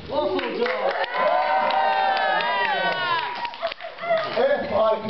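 A crowd at a cosplay convention cheers and whoops loudly in sustained waves, with overlapping shouting voices and a short lull before the cheering picks up again.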